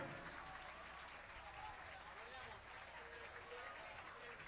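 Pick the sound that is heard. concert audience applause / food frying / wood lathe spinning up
concert audience applause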